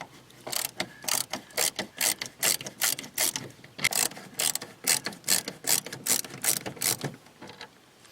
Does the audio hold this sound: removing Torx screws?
yes